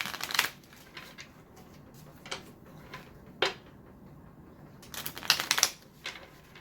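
Decks of cards being shuffled for the Hyper Juken card game, several quick riffling bursts and soft shuffles at irregular intervals, close and fairly quiet.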